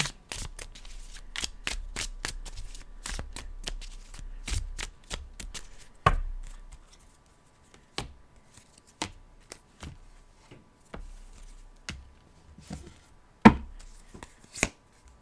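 Tarot cards are shuffled by hand in a quiet room, giving a series of sharp, close riffle and slap bursts separated by short pauses, with soft card handling between them.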